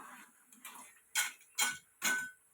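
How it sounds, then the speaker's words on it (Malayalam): Jaggery-coated banana chips are stirred in hot oil with a ladle, giving soft sizzling followed by three sharp, bright scraping clatters spaced about half a second apart, close and fairly quiet. "ഇളക്കുമ്പോൾ ഇതുപോലെ സൗണ്ട് വരും."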